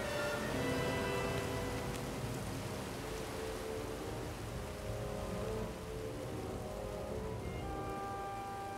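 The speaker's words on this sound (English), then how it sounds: "We're in the horizontal rain." Heavy horizontal rain driven hard by wind on the Cornwall coast, a dense, roaring wash of drops hitting surfaces without letup.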